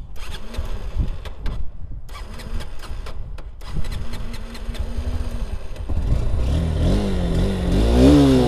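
A 180cc Honda NX200 motorcycle is cranked with several clattering starter attempts separated by short pauses. The engine then catches and idles with a steady, close exhaust beat that rises as it is revved, and nobody speaks.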